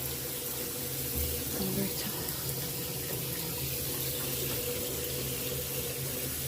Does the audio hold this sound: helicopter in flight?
no